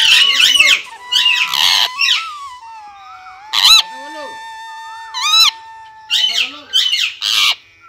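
Parrots in an aviary at Rasikbeel Mini Zoo in Alipurduar give loud, close squawks and whistling calls in short bursts, with quieter whistled tones between them.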